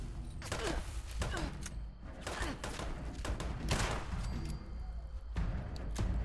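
Robots open fire in Fallout 76, with loud, rapid gunfire bursts in repeated volleys and short gaps between them over several seconds.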